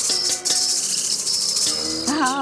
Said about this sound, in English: Oh, it's just a cricket.